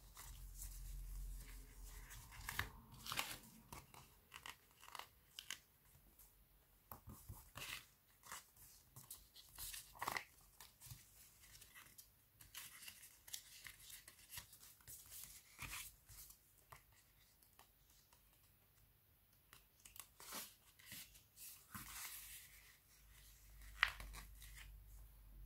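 Stickers are peeled and pressed onto a decorated journal page: soft, scattered crinkles, rubs and brief tearing sounds come in irregular bursts, close but quiet, with long hushed gaps and no talk.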